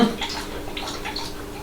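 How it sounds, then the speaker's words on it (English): Water slurping and sloshing, recreated in a kitchen, with soft continuous gurgles and light drips held at a low, even level throughout. "and the slurping of water"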